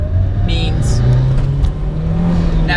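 Mitsubishi Evo 8 engine rumbling and revving up from inside the car, a loud steady drone with rising pitch, brief higher whirs and clicks over it.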